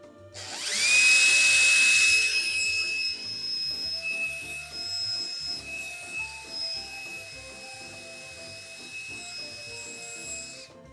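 A power drill bores a countersink into a wooden board, whining loudly as it spins up, then settling into a steadier grinding hum as the bit cuts nearby.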